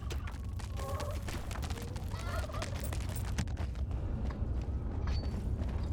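Chicken clucking in the dungeon-keeper game Dungeons 4, a run of bird-like calls over a dense, constant game soundscape.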